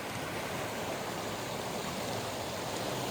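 Fast-flowing river water at Heron Lake, New Mexico, rushing in a dense, steady broadband roar that stays close and loud without a break, with no voices over it.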